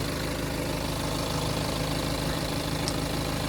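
The diesel engine of a BMW 520d F10 idles with the bonnet open, a loud, close, steady rumbling drone with a faint knocking texture and no talking.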